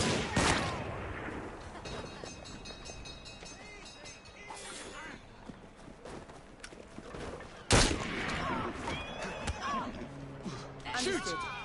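Gunshots in the video game Assassin's Creed Syndicate, a few sharp, separate bangs among rumbling game sounds, with a voice talking over much of the scene.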